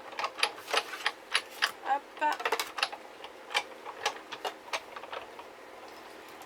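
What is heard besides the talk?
die-cutting machine running paper through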